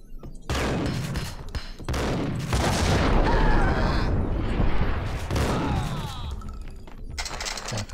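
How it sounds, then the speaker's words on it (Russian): Gunfire and explosions in the video game Max Payne, with bursts of shots and booming blasts, one including a grenade, are layered over a continuous loud action soundtrack, and a voice can be heard. "Кинул гранату, а?"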